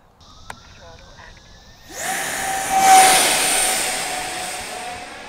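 An Eachine F-18 model jet with a 50mm electric ducted fan spools up after quiet handling noises, rising to a loud whine that peaks and holds as it takes off nearby.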